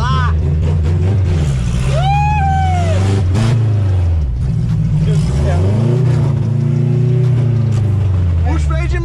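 A Chevrolet Chevette engine revs loudly and close while accelerating and braking at the same time, its pitch climbing and dropping in repeated surges, with a brief high squeal early on.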